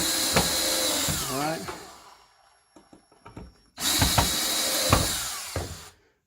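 A power drill bores into wood while building a model railway layout, with two loud whirring bursts separated by a short pause; a person briefly speaks between them.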